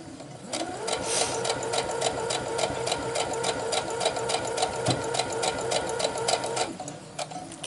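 Sewing machine stitching quilt half square triangles for a mystery quilt, a steady rapid mechanical whir with a fast even needle rhythm, close and continuous from start to stop.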